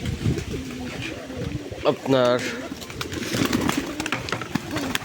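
Desi Raj Golla pigeons coo softly in the background while a person speaks over them, with a brief higher bird call midway.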